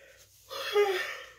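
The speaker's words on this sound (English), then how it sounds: "I keep yawning." A person lets out a single breathy yawn that swells and then eases off, close to the listener and heard on its own.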